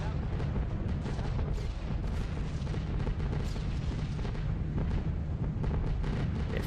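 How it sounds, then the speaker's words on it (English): Anti-aircraft flak bursts rumble in a dense, continuous barrage around a B-17 bomber over Hamburg in a video game, heavy low booms layered over steady engine drone. "Terrifying, a lot of flak, isn't it?"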